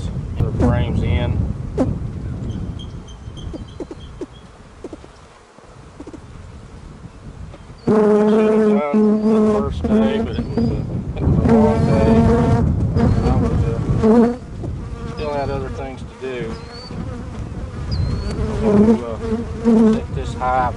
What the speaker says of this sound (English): There's still a lot of bees down here.